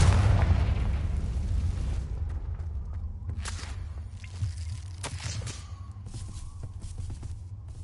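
A Confringo spell explosion in Hogwarts Legacy: a heavy, rumbling blast that decays slowly into a lingering roar, followed by scattered crackles and small pops.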